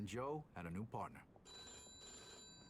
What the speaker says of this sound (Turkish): Telefonumuz çalıyor.